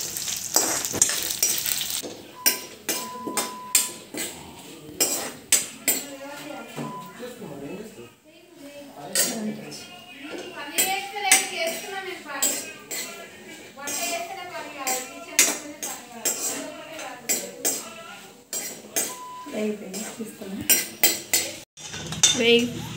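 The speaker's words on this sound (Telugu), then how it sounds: "1 స్పూన్ ఆఫ్ ఆయిల్ వేసుకొని లైట్గా గోల్డ్ కలర్ వచ్చే వరకు వేయించుకోండి." Dried red chillies fry in a spoonful of oil in a pan for a drumstick-leaf chutney, with metal clinks and scraping from a spoon throughout, a faint sizzle underneath, and someone talking over most of it.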